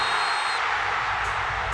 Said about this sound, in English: The crowd erupting